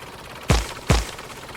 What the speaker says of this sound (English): And then we'll stop and fire off some turrets.